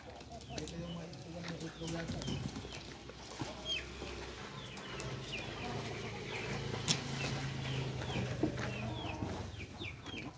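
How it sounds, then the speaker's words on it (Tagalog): Many chickens, including feather-footed birds, cluck and chatter around a farmyard, their calls scattered and moderately near over a steady background, with people talking intermittently. "Ang daming manok."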